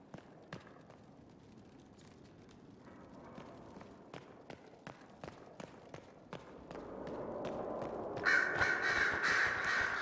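Crows cawing in Dragon Age: Inquisition at Skyhold, a string of sharp, regular caws over quiet ambience, with a louder rushing wash rising near the end.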